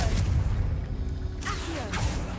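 Confringo blasting spell cast in Hogwarts Legacy on PS5, heard as two sharp whooshing bursts with a booming crackle over a steady low game rumble.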